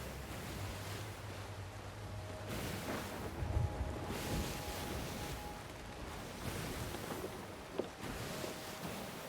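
Steady wind and rolling waves at sea in Sea of Thieves, a constant broadband rush with gentle swells and a faint tonal hum, unbroken and fairly even in level, with no voices.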